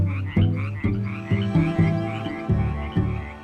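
Frogs croak at a restored creek in a loud, close series of rhythmic, regularly spaced calls with no other sound.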